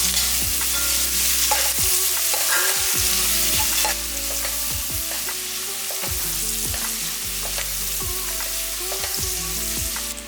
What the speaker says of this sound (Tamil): ரெண்டு பெரிய வெங்காயத்தை கட் பண்ணி வச்சுருக்கேன் நீல வாக்கில் அதையும் போட்டுக்கலாம்